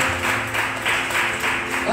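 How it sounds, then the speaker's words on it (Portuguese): A congregation at a worship service applauds, a loud, continuous wash of clapping that pulses in a loose rhythm, with voices mixed in. "Você pode aplaudir Jesus?"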